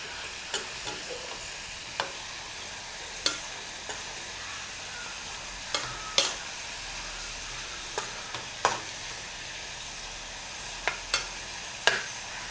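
Potato chips fry in hot oil in a kadai with a steady soft sizzle, broken by scattered sharp pops and crackles.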